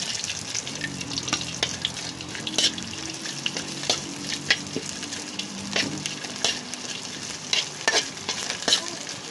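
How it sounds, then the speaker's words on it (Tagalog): Seasoning sautéed in cooking oil in a pan sizzles steadily, with scattered clicks and scrapes as it is stirred, close and moderately loud with no talk. "Kailangan ko muna siyang sangag ng konti sa mantika para mabango."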